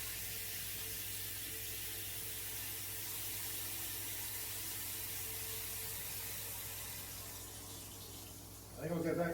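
Tap water runs steadily over a potato masher being rinsed in a kitchen sink, a continuous broadband hiss that holds level for most of the clip before a brief louder clatter near the end.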